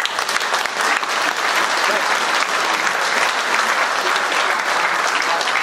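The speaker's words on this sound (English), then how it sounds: "A round of applause." Audience applause at a choir concert, a steady, dense wash of clapping from a large crowd that holds at full strength throughout.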